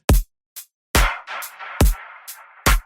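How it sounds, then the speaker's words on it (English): A very simple kick and snare drum beat plays, with deep kick thumps alternating with sharp snare hits in a sparse, steady loop that rings loudly with no other sound. "With the really simple kick snare drum beat."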